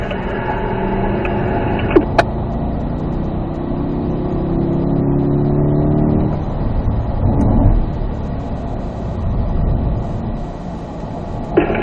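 A car engine pulls hard under firm throttle, a loud, sustained roar that builds and holds for several seconds before easing off, heard close up with no voices.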